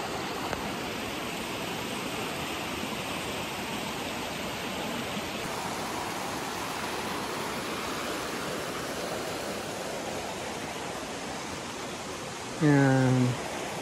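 A strong stream rushes over rocks during a hike, a steady broadband roar of flowing water that fills the whole stretch, with a brief voice breaking in near the end.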